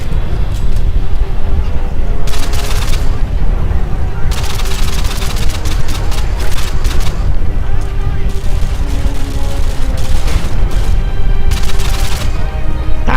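Gunfire rattles almost continuously and grenade explosions burst in bursts during a Call of Duty Modern Warfare 2 firefight, loud and close, with excited talking over the action.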